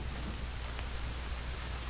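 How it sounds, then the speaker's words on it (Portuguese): Steady rain in the video game The Forest, a dense continuous hiss with low rumbling underneath and no talk over it. "Nossa, chuva."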